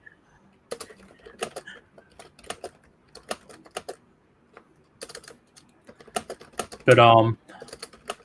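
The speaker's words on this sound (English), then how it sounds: "Is my clicking that loud? Like if I type, like is it loud for you?" Typing on a computer keyboard in bursts of quick, close, clicky keystrokes with pauses between, and a person briefly speaking partway through.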